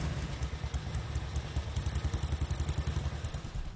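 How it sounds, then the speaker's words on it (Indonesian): Old BSA (Birmingham Small Arms) motorcycle rickshaw from the 1940s–1960s in Pematang Siantar, its engine idling nearby with a steady low, rhythmic thumping chug and clatter. "becak yang menggunakan kendaraan merek BSA atau Birmingham Small Arms produksi Inggris tahun 1940 hingga 1960-an"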